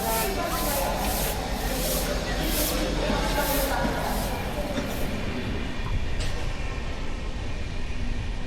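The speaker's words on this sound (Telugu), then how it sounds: "సో ఇది మా ట్రైన్." Passenger train on the Hyderabad to Rameswaram run, a loud steady rumble of wheels and carriages with rhythmic clatter and hissing, and a voice talking intermittently over it.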